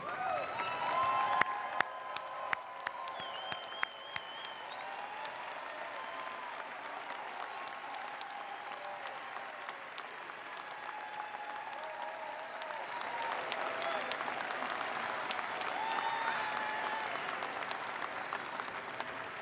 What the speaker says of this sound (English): Everyone, please rise and a round of applause for each other